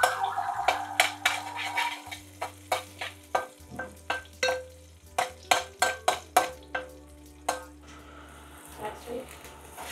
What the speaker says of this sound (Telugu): ఇప్పుడు ఎల్లిపాయలు వేసేసుకొని ఎల్లిపాయలు కూడా మళ్ళీ వన్స్ అగైన్ సిమిలర్గా బ్రౌనిష్ కలర్ వచ్చేంత వరకు వేయించుకోవాలి.